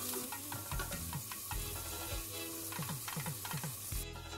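Bitter gourd fries in a pan for a curry, a steady sizzle broken by repeated scraping stirs of a spatula, close and fairly loud with no voices.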